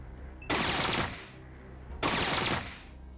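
Two loud bursts of submachine gun fire in the video game Fallout 2, each rapid volley lasting about half a second and separated by a short pause, with nothing else heard.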